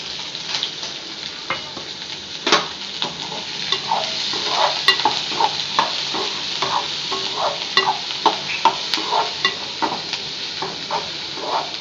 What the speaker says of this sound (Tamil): நல்லா ப்ரௌன் கலர் ஆகுற வரைக்கும் நல்லா ஃப்ரை ஆகட்டும்.